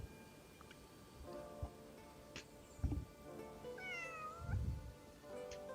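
A cat meows in a game world, a few brief calls with a rising, wavering cry mid-clip over low thumps and faint ambient noise.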